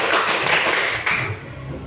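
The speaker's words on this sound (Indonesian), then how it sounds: "Jadi tepuk 1, tepuk 2, tepuk 3, tepuk 4," A school class clapping together in a counted rhythm during a teaching practice lesson, a few loud group claps with brief gaps between them, fading into quieter room noise.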